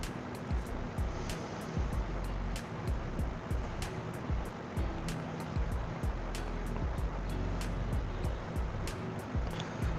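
Chopped onions fry in hot cooking oil, giving a continuous close sizzle dotted with regular sharp crackles and pops, with no voices.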